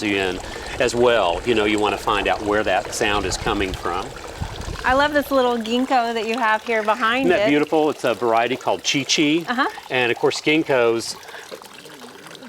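A garden water feature trickles and splashes steadily in the background while two people talk over it near a ginkgo tree.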